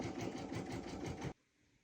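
An embroidery machine stitching on hooped felt, a close rapid mechanical chatter with regular needle pulses that stops abruptly just before the end.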